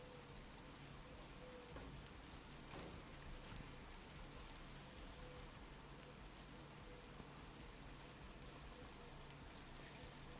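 Steady rain falls in Farming Simulator 25, a dense, unbroken hiss of drops on surfaces, faint and constant with no pauses for the whole stretch.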